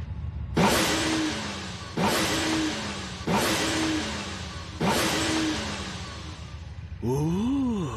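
A car engine revs hard after a full overhaul in an anime scene. Four loud, rising revving surges come in steady succession, then a final wavering rev. The engine is close and alone, with no talk.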